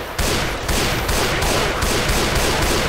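Sustained automatic AK rifle fire in the zombie shooter Left 4 Dead 2, a loud, dense stream of rapid shots that begins abruptly and continues without pause, close and dominant.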